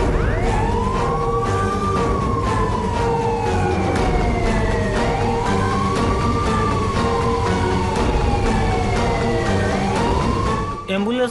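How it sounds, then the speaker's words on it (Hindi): A wailing siren sweeps up and down in slow, repeating cycles over steady traffic rumble, loud and fairly close throughout. "एम्बुलेंस आसी गलानी"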